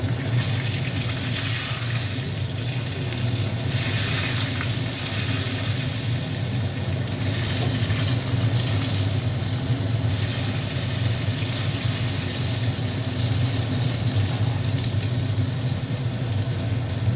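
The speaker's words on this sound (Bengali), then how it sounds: "এবার একটু বেগুনগুলো ভেজে নেব।" Eggplant slices fry in hot oil, giving a steady, dense sizzle that carries on without a break, close and loud.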